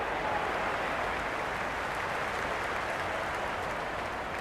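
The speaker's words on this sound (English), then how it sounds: "The crowd is electric right now." Applause from the crowd in a cricket video game forms a dense, steady wash of clapping at a fairly faint level, unbroken across the whole stretch with no voices on top.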